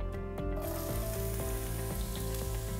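Onions cut into wedges frying in olive oil for a pasta with zucchini, a soft, steady crackling sizzle with faint intermittent clicks, close and alone without talk.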